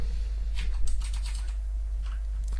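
Computer keyboard keys tapped in quick irregular bursts while entering i3wm window manager shortcuts, light clicky strokes close by over a steady low hum, no talking.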